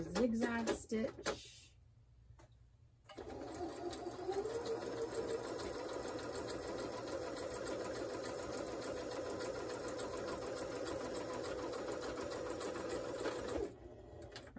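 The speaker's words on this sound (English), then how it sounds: "Whoops, don't want to sew the flap closed. Okay, I want a zigzag stitch." A sewing machine zigzag stitching along the hinged envelope of a nautical journal's inside cover, running in a steady fast buzzing burst for about ten seconds after a brief start-stop, with a voice speaking briefly before it.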